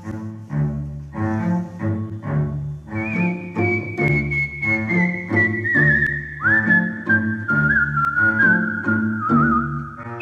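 A solo whistler performs a melody from Carmen during a sound check, with clear, sustained whistled notes gliding over a steady accompanying music track throughout.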